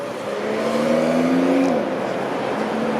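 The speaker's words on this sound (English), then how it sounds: "Look at the traffic heading down York." Traffic streams down York Street in downtown Toronto, a steady close roar of cars passing with an engine tone rising and dropping as one vehicle goes by.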